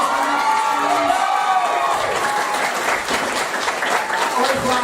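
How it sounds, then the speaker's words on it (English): Audience at a Beauty and the Beast stage show breaks into loud applause mixed with cheers and whoops, including children's shouts, while a voice carries over the steady roar. "round of applause"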